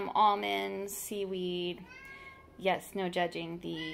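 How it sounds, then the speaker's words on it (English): A house cat meows repeatedly in a pantry, with several drawn-out, close meows coming in bursts while a person keeps talking over them. "that's my cat talking to us."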